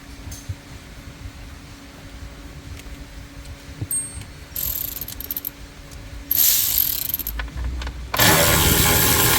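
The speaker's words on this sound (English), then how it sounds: "I see there's two 10mm bolts right here that we need to remove." Ratchet loosening two 10mm bolts from the center console of a Mercedes GLE W167, with clicking ratchet runs and metallic clatter, close and loud, growing denser toward the end.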